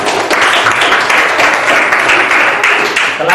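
A classroom of students claps hands together in a dense, steady burst of applause lasting a few seconds, close and loud, with no pauses.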